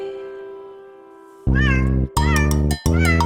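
A cat gives three loud, close meows in quick succession, each rising and falling in pitch, after a sustained tone fades out.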